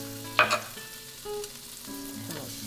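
Curry powder, cumin, turmeric, salt and hot pepper sizzle in a hot pan while being quickly stirred. A couple of sharp scraping clatters come near the start, and then a steady frying hiss continues on its own.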